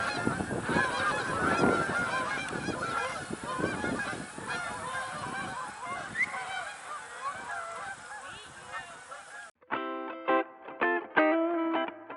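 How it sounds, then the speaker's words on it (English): A flock of geese honks overhead, dense overlapping calls mixed with other birds high up, steady for about nine seconds before a clearer, closer series of honks takes over near the end. "it's mixed with a bunch of other birds up there. You can hear them."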